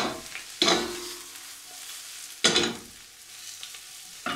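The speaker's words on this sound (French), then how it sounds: "pendant que nos oignons sont en train de cuire" Sliced onions seasoned with salt and pepper fry gently in a pan with a soft, low sizzle, broken by two brief louder scraping bursts as they are stirred.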